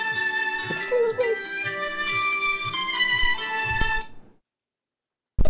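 A phone ringtone plays a bright, repeating melodic pattern over steady background game music for about four seconds, then cuts off into silence before a sudden loud burst.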